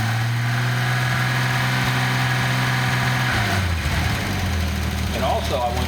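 A Datsun 280ZX turbo engine idles roughly on a lean mixture, then its pitch and rumble shift as the throttle opens up, loud and steady throughout.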